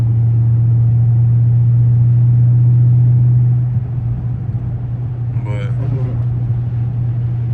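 A Dodge Scat Pack sliding through turns on snow gives a loud, steady low engine drone from inside the car, easing slightly partway through, with a brief voice-like burst near the end.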